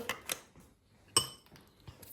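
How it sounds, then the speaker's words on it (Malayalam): Ice cubes drop into a glass jar of mixed fruit juice, a few sharp, quiet clinks spaced apart with brief silences between them. "കുറച്ച് ഐസ് ക്യൂബ്സ് ഇട്ട് കൊടുക്കുന്നുണ്ട്"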